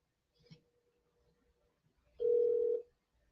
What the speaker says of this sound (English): Come on, Stacy R. Facey, answer your phone.